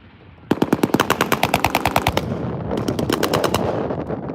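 An M240L machine gun fires on an outdoor training range at Holcomb Range: a long, loud rapid-fire burst, a brief pause, then a second shorter burst, each shot sharp and evenly spaced.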